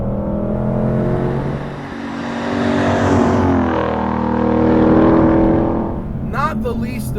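A 2020 Shelby GT500 Mustang accelerating hard through its gears, its engine note climbing, dropping at each quick shift and climbing again, with someone talking over the loud run-up.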